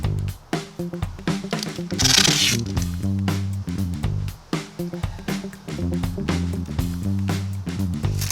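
Masking tape is pulled off the roll and pressed onto the painted hull of a narrowboat in a run of quick, close tearing and zipping strips, each followed by short pauses.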